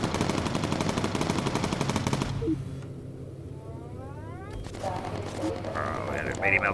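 Aircraft gunners in the bomber game Bomber Crew let loose a loud rapid burst of machine-gun fire that stops abruptly, followed by quieter crackling flak bursts and a distant whistling sound.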